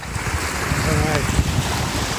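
Wind-driven waves wash steadily against the shore of a large open lake, a continuous rushing surge with heavy wind buffeting the microphone, loud and close throughout.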